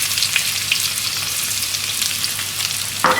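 Garlic fries in oil infused with fried chilies, a loud close hiss of sizzling with sharp spatters, then a clatter near the end.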